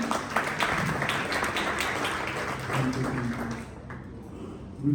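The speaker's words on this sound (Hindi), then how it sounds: "ये जोरदार तालियां।" A church congregation claps enthusiastically to welcome someone forward, a full burst of applause that thins and fades out near the end.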